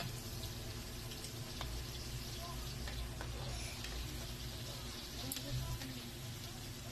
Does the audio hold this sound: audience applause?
no